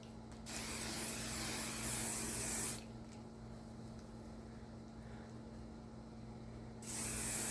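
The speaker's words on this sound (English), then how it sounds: "let's just spray it on here and see if it does kick it back" Aussie hair spray sprayed onto a synthetic hair piece: two loud hissing bursts from the aerosol can, one about two and a half seconds long, then a quiet pause, then a second burst starting near the end, over a steady low hum.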